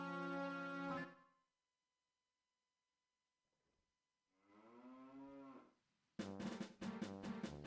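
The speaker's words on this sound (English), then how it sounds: "I just heard a cow moo." A cow moos in Zelda: Majora's Mask, several drawn-out tonal lows separated by silence, clear and close, with a final burst of bright, layered sound at the end and no voices.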